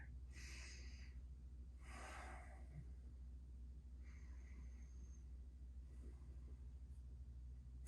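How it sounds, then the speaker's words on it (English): Deep breathing during a standing pose in a hot yoga class, with two audible breaths near the start over a steady low room hum, followed by faint, quieter breath traces. "We'll take a few breaths here."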